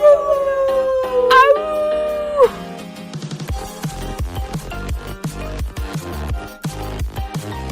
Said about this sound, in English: sounded like a howl